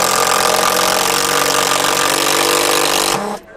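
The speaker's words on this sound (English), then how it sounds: "if I take these two boards and I set the Cortex screw into the edge" A power driver sinks a Cortex screw into the edge of Acre rice-hull trim boards, a loud, steady whirring drive lasting about three seconds, ending with an abrupt stop and brief fade.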